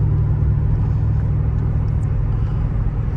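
A 2004 Mercedes SL55 AMG engine and exhaust running without mufflers, a loud deep close rumble holding steady with a throbbing low tone and no talk over it.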